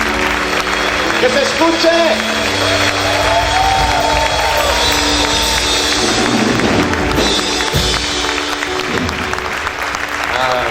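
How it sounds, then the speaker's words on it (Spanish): A church congregation claps and cheers loudly and steadily throughout, with voices shouting over the applause and a speaker talking in the middle of it. "dale ese fuerte aplauso al Señor."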